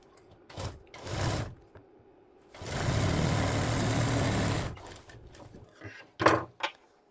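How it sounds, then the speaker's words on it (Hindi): A sewing machine runs a straight line of stitching along a hook strip on a blouse, a steady two-second burst of whirring between soft handling knocks and rustles. "इस पर बिल्कुल सीधी सिलाई लगानी है"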